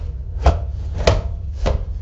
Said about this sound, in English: Chopping tomatoes on the wooden table